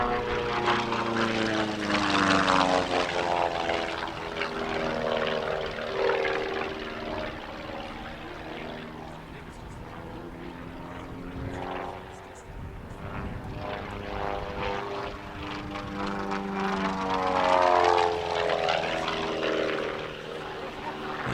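A Rutan Acro Ez, a light, low-drag 160-horsepower pusher-propeller plane, performs at an airshow, its buzzing engine drone rising and falling with Doppler sweeps as it passes back and forth overhead, continuous and fairly loud throughout.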